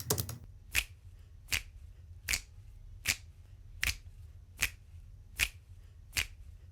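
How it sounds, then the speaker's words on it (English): Recorded finger snaps soloed from a percussion track, eight crisp, evenly spaced snaps at a steady pulse, close and dry, alone with no other instruments. "So here's all the percussion elements in the second verse. I solo these snaps."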